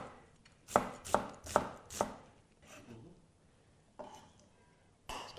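A knife slices a large onion into fine slices on a board: four sharp, evenly spaced chops, then a softer cut and two more later, close and clear.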